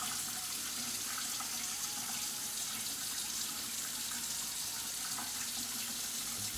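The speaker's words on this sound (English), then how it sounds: "we're gonna swirl it around and dump the water out until it gets clear" Water splashes and swirls steadily as rice is rinsed in a pot, a continuous close wash of running and sloshing liquid with no talking.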